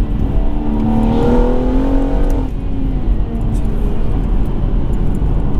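A methanol-injected 510 bhp BMW M140i accelerates hard, its engine note climbing steadily in pitch before a sudden drop at a gear change, then pulling on loudly.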